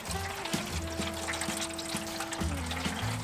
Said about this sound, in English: Now we're gonna add in the water so this can get nice and tender.